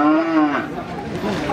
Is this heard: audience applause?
no